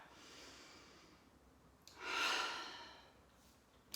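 One slow, deep breath is drawn in and released during a shoulder and thoracic spine stretching routine, soft and close, swelling to an audible airy peak before fading in a quiet room.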